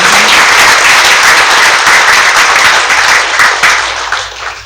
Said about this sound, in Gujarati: એમને જોરદાર તાળીથી આપણે